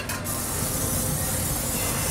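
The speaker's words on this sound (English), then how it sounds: "give it a little spray" A spray bottle hisses a steady, close mist onto a thick metal grill top, one continuous burst after a brief initial spritz, with no talking.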